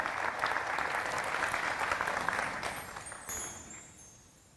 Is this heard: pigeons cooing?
no